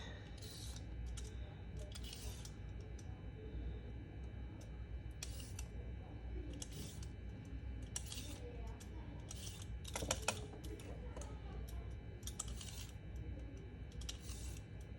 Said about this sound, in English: And then we're going to cut them into matchsticks or julienne again